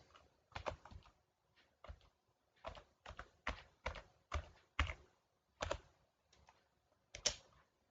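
Keystrokes on a computer keyboard while logging into PostgreSQL through psql, about a dozen clicks and taps in uneven bursts, close and fairly quiet, with no one talking.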